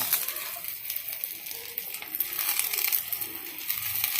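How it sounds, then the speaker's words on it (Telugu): Ivy gourd pieces fry in a pan with onions and green chillies, giving a steady, close broadband sizzle that runs through the whole stretch with faint crackles and no talking. "ఉల్లిపాయలు వేగిన తర్వాత దొండకాయలు వేసుకుని బాగా ఫ్రై చేసుకోవాలి"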